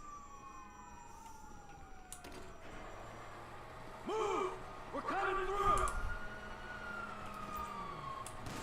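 A police siren in the video game Grand Theft Auto wails from the middle distance under shouting voices and game noise, rising and falling in a few sweeping cycles before fading.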